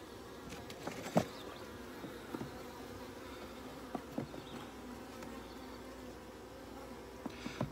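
Dense, continuous drone of honeybees around an open top bar hive during a midsummer inspection, close and steady, with occasional soft knocks of handling.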